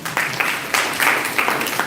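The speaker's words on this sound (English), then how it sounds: "Let's clap for Priyanka." An audience at a resume writing workshop claps for a participant, a short burst of steady, close applause that fills the whole moment with no talk.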